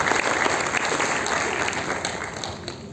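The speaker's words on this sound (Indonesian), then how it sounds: "Tepuk tangan benar-benar." A congregation at a Christmas 2024 sermon breaks into sustained applause, a thick, even roar of many hands that slowly eases toward the end.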